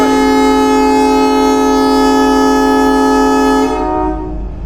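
A loud, sustained train horn blares steadily for several seconds, then fades away as the train moves off, leaving a low rumble.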